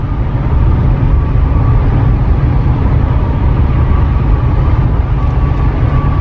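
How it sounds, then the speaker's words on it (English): Steady, loud low rumble of road noise fills the cabin of an Acura RDX A-Spec or Genesis GV70 Advanced SUV, a constant droning roar with no speech over it. "the road noise, how loud the interior is"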